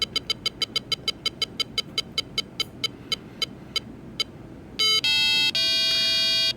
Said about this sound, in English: you can hear it beeps.